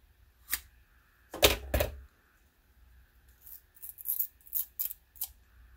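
Scissors cut along the edge of a part on an Orion StarBlast telescope: two or three crisp snips, then a quicker run of small clipping sounds, close and quiet against near silence.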